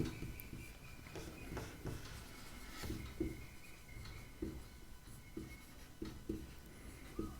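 Pen or chalk writing out a maths statement about the average weight of students, faint irregular scratchy strokes and taps at a quiet close range.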